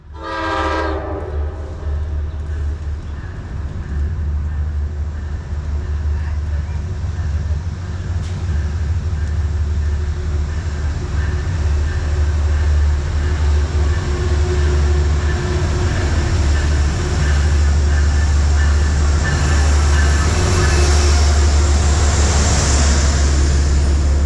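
Metro-North New Haven P32 ACDM diesel locomotive bringing a train to a stop at Merritt 7 station, a short horn blast at the start followed by a loud, steady low engine rumble and rolling noise up close.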